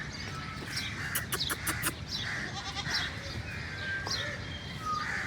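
Several goats bleat in a cage, a series of nasal calls close by over steady farmyard background noise, with bird chirps in the mix.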